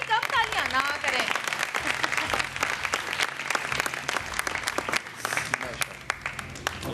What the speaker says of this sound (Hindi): उम्रे के टिकट में इतनी कम तालियां ना करें।